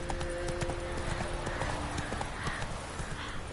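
A horse trots in The Witcher 3 video game, its hooves clip-clopping in a quick steady rhythm close by, with brief faint speech over the hoofbeats.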